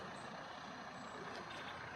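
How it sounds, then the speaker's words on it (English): A heavy equipment truck arrives along a main street, a steady rumbling engine with a brief air-brake hiss, moderately distant and heard without any talk. "I see some heavy equipment coming in over there. I'm not quite sure what that truck there is."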